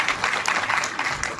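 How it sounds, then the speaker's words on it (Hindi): An audience at a school event applauds schoolgirls with a brief burst of mixed clapping from a crowd, close and moderately loud, under a faint background voice. "हम बच्चियों के लिए भी तालियां होनी चाहिए।"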